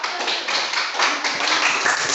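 A school class in Gunungsitoli claps hands together, a dense burst of close, uneven clapping that runs steadily without talk over it.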